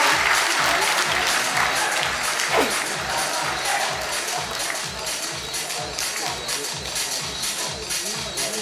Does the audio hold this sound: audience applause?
yes